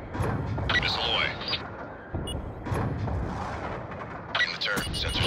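Missile launch and explosions in Call of Duty: Black Ops 2, a continuous loud roar of blasts and booming impacts with bursts of gunfire-like crackle, swelling again near the end.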